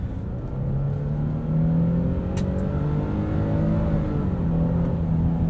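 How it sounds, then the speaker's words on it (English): A muted V6 engine in a 2022 Nissan Frontier PRO-4X pickup hums steadily throughout, its low drone rising gently in pitch as it accelerates, with no voices. "The V6 in this is pretty muted, but I think it sounds good."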